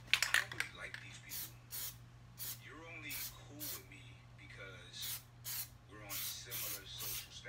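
Spray paint hisses onto the headlight of a Cadillac CTS Coupe in several short, close bursts of hissing with pauses between them, while someone talks over and between the sprays.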